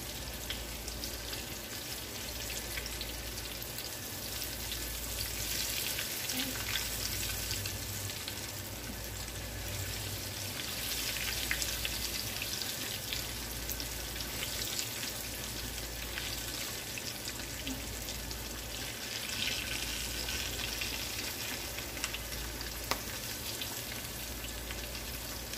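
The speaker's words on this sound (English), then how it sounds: "You all get to see it. First hand, frying." Steady, crackling sizzle of BBQ taco chicken tortilla pizza frying in hot oil, continuous and fairly loud throughout, with no voices.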